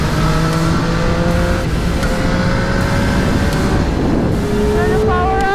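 A Triumph Street Triple 765R motorcycle engine drones loudly and continuously with rising and falling harmonic whine as revs shift, close and powerful, with wind rush throughout.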